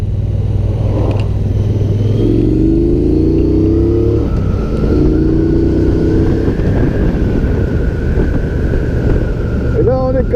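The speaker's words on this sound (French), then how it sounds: "Et alors vous allez très vite voir l'accélération possible." A Triumph Bonneville Speedmaster motorcycle accelerates through rising gears, its engine pitch climbing and dropping with each shift, loud and close under wind noise.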